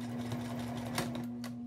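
A sewing machine runs a continuous straight stitch while joining quilt rows, giving a steady, close mechanical hum with faint ticking throughout.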